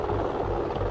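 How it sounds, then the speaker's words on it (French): A loud, steady mechanical roar with a dense low throb, like a helicopter close by, continuous throughout. "J'entends toujours l'hélico."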